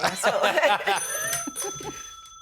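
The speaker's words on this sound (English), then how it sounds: "Hang on, phone's ringing." A telephone rings with a steady electronic tone that holds for over a second, sounding after a burst of lively talk and laughter in a studio, with voices still faintly present beneath it.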